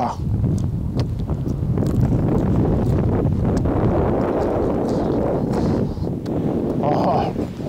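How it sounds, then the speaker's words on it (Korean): Strong wind buffets the microphone at an outdoor campsite, a steady broadband rumble running the whole time with people talking and eating over it. "바람 겁나 부네, 진짜"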